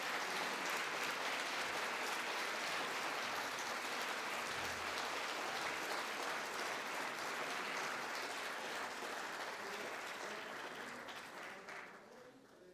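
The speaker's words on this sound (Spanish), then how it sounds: "Pido un aplauso, por favor." Sustained audience applause during a medal presentation at an inaugural conference, dense clapping from a hall full of people that tapers off near the end.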